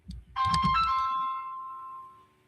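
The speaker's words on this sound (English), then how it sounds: "all my phone blowing up now. I don't want to answer that." A phone rings with a bright, sustained electronic tone that slowly fades out, following a short burst of low rumbling noise at the start.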